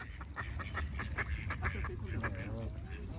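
Ducks quack repeatedly in quick bursts, fairly close, with a low rumble underneath and a faint voice toward the end.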